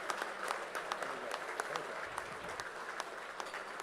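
An audience at the 17th WESPY Awards ceremony gives a steady round of applause. Dense, even clapping fills the room, heard from a distance and fairly soft, with no voices standing out.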